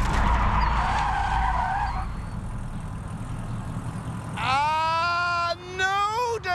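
A car brakes mid-swerve during a driving challenge and spins out of control. Voices and road noise come first, then loud tire squeals rise and wobble in pitch over the last seconds.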